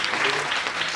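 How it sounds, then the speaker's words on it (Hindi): Dense audience applause at a motivational speech in Hindi, a steady wash of many hands clapping close and loud for the whole second with no talk over it. "यहाँ पे ताली बजाओ इस बात पे"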